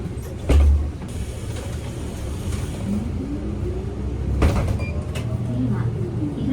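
A Kyoto city bus at night pulls to a stop with a steady low engine rumble, then its doors slide open with a brief thump and hiss, followed by faint tonal chimes over continuous cabin noise.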